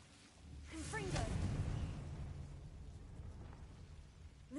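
A Confringo blasting spell explodes in the video game Hogwarts Legacy, a rumbling burst with a swooshing rise that swells and then lingers as a low roar under a spoken voice.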